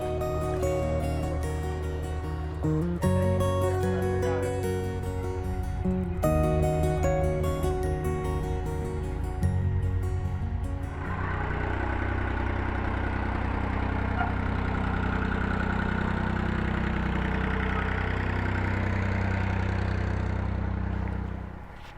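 A canal narrowboat's engine runs steadily with a low, even mid-frequency drone, joined by a broader rushing wash as oncoming boats pass close alongside.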